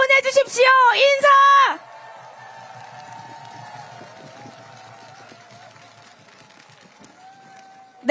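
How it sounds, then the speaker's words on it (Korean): A loud shouted voice opens, then a large crowd at a Lee Jae-myung presidential campaign rally in Seoul keeps up steady, moderate cheering and applause that settles into a continuous murmur. "여러분 큰 박수와 함성 보내주십시오."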